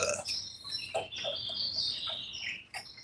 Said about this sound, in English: Can you guys hear the birds?